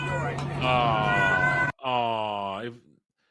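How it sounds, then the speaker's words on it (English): A fat orange cat gives two long, drawn-out meows, loud and close, the first over background noise and the second cut off sharply, followed by silence. "That's a fat cat. Orange cat."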